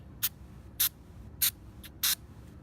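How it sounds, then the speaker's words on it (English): Cleaner sprays in four short, sharp hissing squirts at an even rhythm into the inside of an AK rifle muzzle device, close to the microphone in a quiet room. "And I just spray a little bit on the inside."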